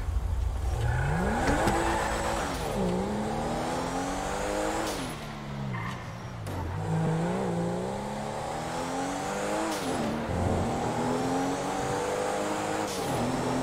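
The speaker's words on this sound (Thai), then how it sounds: "เสียงท่อคันนี้มันเพราะมากเลยนะ" A car exhaust in a video game revs repeatedly, its pitch rising and falling through several gear-like sweeps, loud and continuous with hints of tire squeal, no voices over it.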